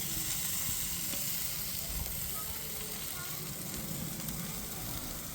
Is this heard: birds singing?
no